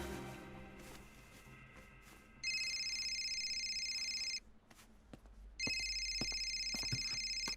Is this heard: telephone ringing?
yes